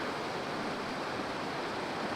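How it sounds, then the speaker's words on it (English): A small waterfall at a campsite in the Ozarks pours in a steady, close, even rush of white noise, with no voices or other sounds over it. "A little waterfall."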